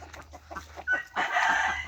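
Chickens cluck nearby in short bursts, with a louder squawking stretch toward the end and a low hum underneath.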